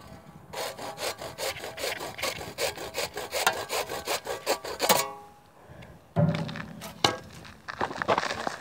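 A hand saw rasps through wood to make a wooden knife, in quick back-and-forth strokes, close and loud, then pauses before a few more scraping cuts.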